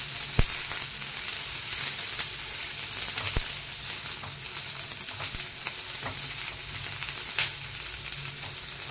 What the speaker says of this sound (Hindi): प्याज को लाइट गोल्डन कर लेंगे।